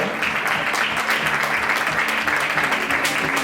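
Sustained applause from a crowd at a women's all-star table football event in Lugo, steady and dense, with a faint voice underneath.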